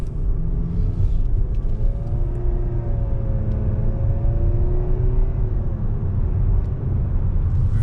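A 2018 Nissan Sentra SR Turbo pulls away under light acceleration, its engine a steady, smooth low rumble with a faint rising tone, heard from inside the car and unbroken by speech.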